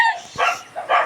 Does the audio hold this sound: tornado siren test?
no